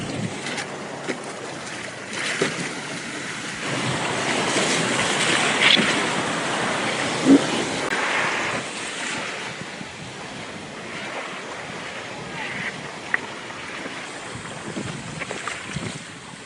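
Ocean waves surge and wash in repeatedly while surfing in Istanbul, with gusts of wind buffeting the microphone and a few sharp knocks along the way.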